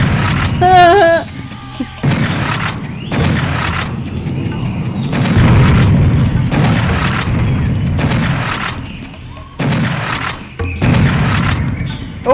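Heavy, booming gunfire comes in repeated loud bursts and single blasts while enemies are shot in an FPS horde mode video game, close and punchy, with brief gaps between volleys and a short voiced exclamation near the start.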